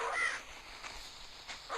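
Crows cawing in the Survivalcraft 2 video game, a harsh call near the start and fainter repeated caws after it, with no talk.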